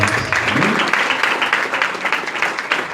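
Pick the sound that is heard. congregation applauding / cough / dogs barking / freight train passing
congregation applauding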